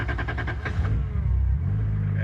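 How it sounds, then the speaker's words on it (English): A freshly built Toyota 2JZ-engined car revs up close, its engine note rising quickly in pitch before settling into a heavy, loud drone, with some voice mixed in. "This is my 2JZ, dude. You're gonna see, we're gonna go for a little ride."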